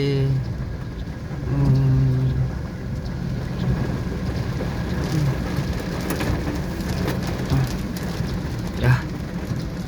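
Rain drums on a moving Isuzu D-Max pickup, a steady wash of patter and spray over a low road rumble, with a few brief low tones and occasional louder splashes near the end.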